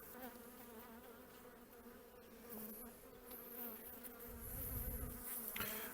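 Dense, steady buzzing of many honey bees close up, a continuous drone with no talking.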